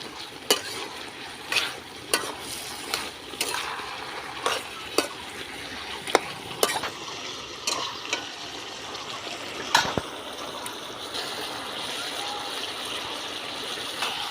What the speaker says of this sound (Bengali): মশলার সঙ্গে সমস্ত সবজিটাকে কষিয়ে নিতে হবে